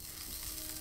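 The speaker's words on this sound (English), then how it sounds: "It's sizzling!" Food sizzles over a campfire in the Mist Survival game, a brief, steady, faint crackling hiss of frying with no other sound.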